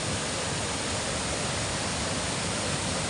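Water spills over a brim-full dam in a hilly rainy-season setting, forming a waterfall; a steady, loud, broadband rush continues unbroken throughout with no voices.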